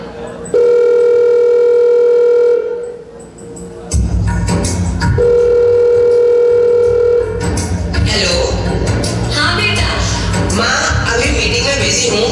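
A telephone dial tone sounds as a call is placed, a steady tone running for a few seconds, cutting off, then returning, followed by voices talking and background noise.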